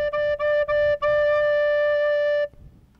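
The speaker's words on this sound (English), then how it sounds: "D should sound like this." A recorder plays a low D with all six holes and the thumb hole covered, giving a clear sustained tone with a few short tongued breaks at the start, then a long held note that stops abruptly, close and alone.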